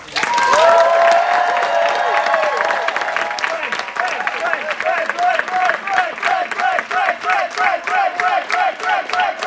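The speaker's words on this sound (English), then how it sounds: "can we have one more big round of applause for all of our graduating students" A crowd at a graduating students' senior showcase breaks into loud applause and cheering that settles into rhythmic, steady clapping in unison.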